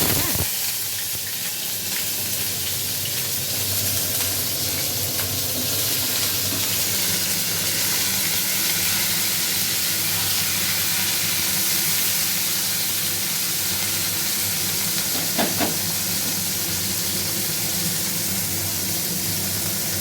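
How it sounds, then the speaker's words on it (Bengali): A constant hissing sizzle of cauliflower frying in mustard oil fills the whole stretch, close and steady, with a couple of faint clinks and no talking. "তা ফুলকপিটা এবার আমি দিয়ে একটু ভাজা ভাজা করেছি"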